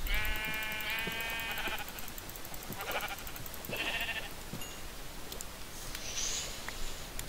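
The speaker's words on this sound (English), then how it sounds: "I feel bad now. I killed a brown sheep." Sheep in the Minecraft Feed The Beast video game give a few short bleats over a steady hiss of game background noise, with scattered clicks between the calls.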